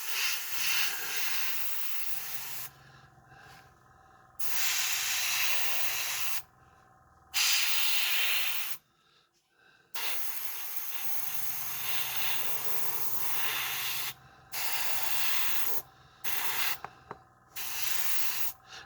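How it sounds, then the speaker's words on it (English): An airbrush sprays paint in repeated bursts of close, breathy hissing, each lasting a few seconds and separated by short silent pauses, with a few rapid quick puffs toward the end. "I don't have much of a control over airbrush"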